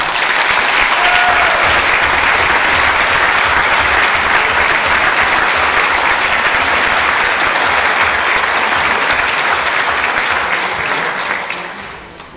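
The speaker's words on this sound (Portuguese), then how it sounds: "Uma salva de palmas para o nosso maestro João Miguel." Loud, sustained applause from a large audience at a philharmonic band concert, dense and even clapping that continues for several seconds before tapering off at the end.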